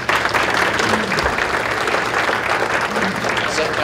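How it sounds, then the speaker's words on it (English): Audience applause during an Idaho gubernatorial candidate's speech in Idaho Falls: dense, steady clapping from a crowd that fills the whole stretch at an even level, with no pauses. "But I really appreciate the clap."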